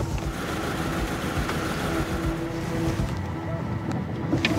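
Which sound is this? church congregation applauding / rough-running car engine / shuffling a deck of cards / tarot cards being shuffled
rough-running car engine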